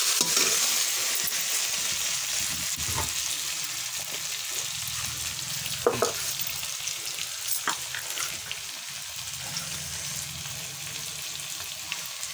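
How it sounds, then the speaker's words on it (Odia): Fish curry cooks on a clay stove with a steady close bubbling sizzle, joined by a few light clinks and taps of a utensil in the pot. "ଚୁଲିରେ ମାଛ ତରକାରୀ ରନ୍ଧା ହେଉଛି"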